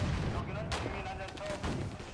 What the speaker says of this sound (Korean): 폭발하는 포탄의 소리가 엄습합니다